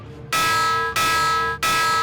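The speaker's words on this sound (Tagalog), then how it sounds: "patunugin ang mga batingaw o alarm para bigyang babala ang mga residente." Three loud metallic bell strikes rung as a tsunami warning alert, each ringing on with a bright sustained tone before the next hit, clear and close with no talk.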